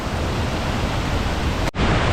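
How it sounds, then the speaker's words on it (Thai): Kuang Si waterfall in northern Laos roars as a steady, loud broadband rush of falling water, continuous throughout with only a momentary dip near the end. "น้ำตกตาดกวางซี่นี่แหละพี่น้อง"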